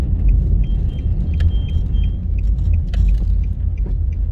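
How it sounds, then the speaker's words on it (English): A car drives along a residential road off Molynes Road, giving a steady low rumble of tires and engine from inside the cabin with small rattles and clicks over it. "We'll be driving on different roads off Molynes Road."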